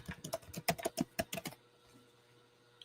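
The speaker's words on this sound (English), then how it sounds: "I'm typing back to her right now." Rapid typing on a computer keyboard, a quick burst of about a dozen close, crisp key clicks for a second and a half, then quiet.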